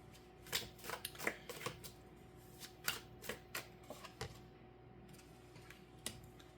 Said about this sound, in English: Let me get some more cards.